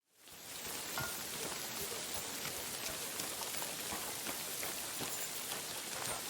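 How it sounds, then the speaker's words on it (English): Steady rain in the medieval open-world video game Kingdom Come: Deliverance II, a dense, continuous hiss of drops on surfaces that fades in quickly and holds even and moderate throughout, with no voices. "It is raining again?"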